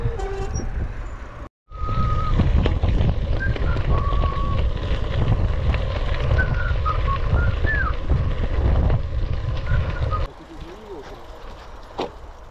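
Strong headwind roars and buffets against a cyclist's microphone in a steady low rumble, easing off sharply near the end.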